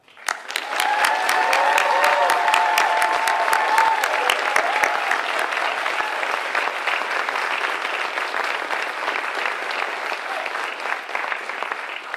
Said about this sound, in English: Could we all please give a thunderous applause for all of our students